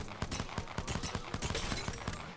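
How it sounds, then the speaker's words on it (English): Rapid bursts of gunfire in the video game Apex Legends, a quick string of sharp, evenly spaced shots repeating through the whole moment, loud and close with no talking. "I did a little bit more shooting to try to get acquainted with some of the weapons"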